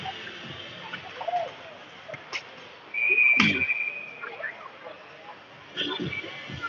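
A referee's whistle gives one short, piercing blast at a high school varsity ice hockey game between Palmer and Colony, heard over arena crowd noise while a commentator talks.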